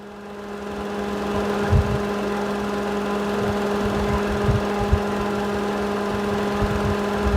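The radiator cooling fan motor on a Perodua Viva 1.0 with a faulty fan circuit runs with a steady electric whir and hum, spinning up at the start and holding constant, with occasional light knocks nearby.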